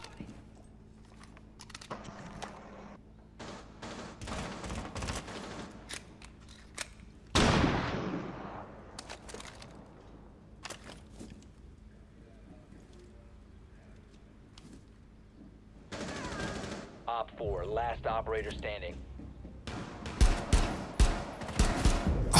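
Shotgun blasts in the video game Rainbow Six Siege, a few loud separate booms among quieter footsteps and game ambience, with a tight cluster of sharp shots near the end.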